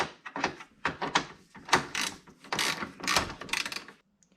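Ratchet with a 10mm socket loosening a bolt behind the fender flare of a 2009 Mini Cooper, bursts of rapid clicking close up, several strokes in a row with short pauses, then quiet.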